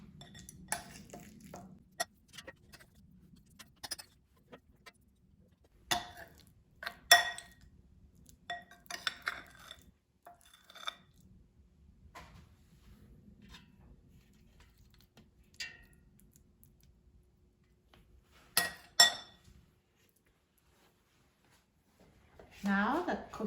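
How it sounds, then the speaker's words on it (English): Cookie dough for banana oatmeal cookies is shaped and placed into a metal air fryer basket, making scattered soft clinks, taps and knocks between quiet pauses in a hushed kitchen. "I'm just going to take the cookie dough and just shape into cookies and put in the air fryer basket"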